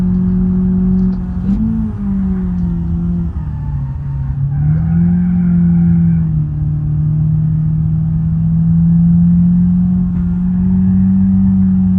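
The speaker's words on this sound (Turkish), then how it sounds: "Şöyle bir kesici duyalım mı ya?" BMW E36 318is engine in the BeamNG Drive game, the car sitting on its rev limiter with a steady droning buzz held for several seconds, dipping briefly and then returning at high, loud revs with no voices.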